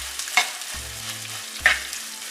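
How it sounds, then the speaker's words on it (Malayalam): Onions sauté in hot oil for a Kerala fish molee, a steady close sizzle broken by two sharp scraping stirs of a spoon against the pan. "ഇത് നന്നായിട്ടൊന്ന് വഴറ്റിയെടുക്കണം."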